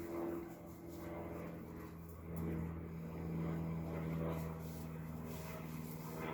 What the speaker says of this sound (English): Acknowledging that I can hear that plane.